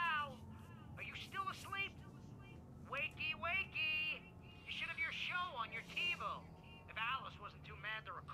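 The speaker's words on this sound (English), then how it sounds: "There was a message waiting for me on the machine." A recorded answering machine message plays back in Alan Wake Remastered, a voice coming through with thin, tinny telephone-like quality in several bursts of speech across the whole stretch, at moderate level.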